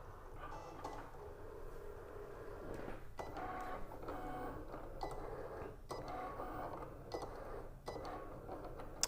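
Cricut cutting machine slicing puff HTV, a steady mechanical whir with repeated carriage movements and clunks, fairly quiet and continuous.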